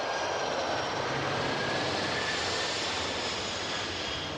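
A Boeing 747 airliner on its takeoff run gives off a steady, broad roar of jet engines that stays constant and fairly distant throughout, with no breaks.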